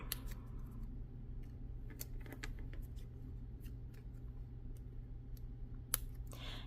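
Scissors cut a chunk out of a cardboard box in several short, quiet snips and clicks spread across a near-silent room, with faint handling rustle between cuts.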